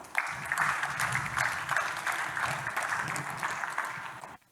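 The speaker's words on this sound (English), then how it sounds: "Can we give them a round of applause?" Steady applause from an audience at a conference on protecting education, sustained clapping for a few seconds before it cuts off abruptly.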